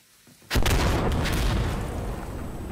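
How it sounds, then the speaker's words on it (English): A flame grenade goes off in a video game: a sudden loud boom after a brief quiet lead-in, then a sustained roaring burn that slowly fades. "I'm throwing a flame grenade!"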